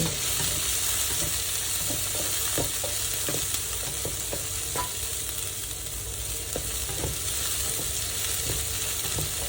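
Garlic and chili stir-fried in a pan, a loud steady sizzle close by, punctuated by frequent short scrapes and taps of the spatula in an uneven rhythm.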